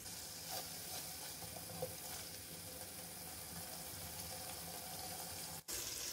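Water poured into sizzling masala frying in a pan for dal, a continuous close hiss and splash of liquid over the crackle of frying, ending with a brief clatter.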